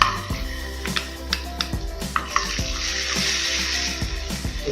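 Ginger garlic paste frying in a pan as the start of a commercial-style pizza sauce, a steady loud sizzle with occasional clinks and scraping taps of a utensil, close up and without speech.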